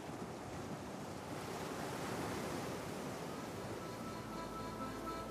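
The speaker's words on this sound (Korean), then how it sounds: "해안의 바위에 부서지는 파도가 장관인 간절곶" Sea waves break steadily on the coastal rocks at Ganjeolgot as a continuous broad wash of surf and wind, faint and distant with no distinct individual crashes.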